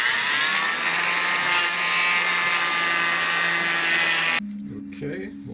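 A multi-tool fitted with a blade works on a vinyl window as part of a Milgard window replacement, giving a steady high buzzing whine that runs unbroken for about four seconds, then cuts off abruptly.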